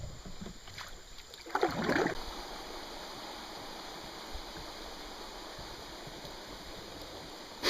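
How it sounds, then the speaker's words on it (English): A small waterfall on a wilderness waterway gives a constant rushing wash of water, with a brief louder splash early on as a paddle or canoe moves nearby. "Another little waterfall."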